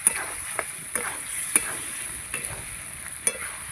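Mutton browning in oil in a kadai is stirred with a ladle, giving a steady soft sizzle punctuated by several sharp scraping knocks against the pan, close and clear with no talking.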